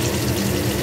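Water pours and splashes briefly as a spice bowl is rinsed out and emptied into a pan, a short, dense, close rush of liquid.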